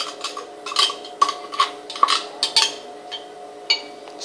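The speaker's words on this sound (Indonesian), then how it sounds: "Setelah itu diaduk kembali hingga rata." A spoon stirs a pepes pindang spice and fish mixture in a bowl, making a series of irregular light clinks and scrapes against the bowl, close and fairly quiet with no talking.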